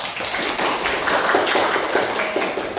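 Hands clap together in a classroom in a quick, fairly dense burst of taps that carries on steadily for a few seconds at moderate loudness, with no talking over it.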